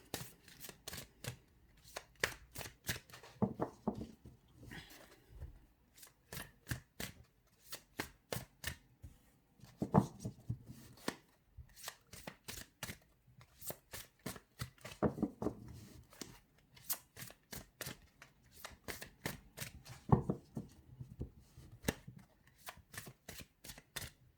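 Tarot cards being shuffled over and over, a steady run of crisp papery riffles and flicks coming in bursts close to the listener, with no voices.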